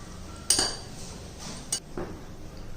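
Utensils clinking against a bowl while a weight loss salad is tossed, a few sharp metallic taps and scrapes spaced apart over quiet background.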